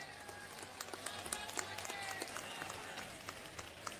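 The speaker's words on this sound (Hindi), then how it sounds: "अब जरा जोरदार तालियों के साथ प्रियंका जी का स्वागत करेंगे" Crowd applause at a Congress public meeting in Chandni Chowk welcoming Priyanka Gandhi, fairly distant scattered clapping over a murmuring crowd, with a voice talking through it.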